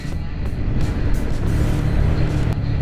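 A motorhome runs fast down a hill, its engine and road noise forming a steady, loud rumble throughout with no break.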